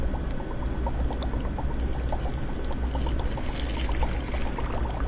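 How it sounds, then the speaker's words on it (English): Juice poured onto dry ice, a continuous dense bubbling and fizzing pour that stays steady and close throughout. "And then I'm gonna pour the juice in."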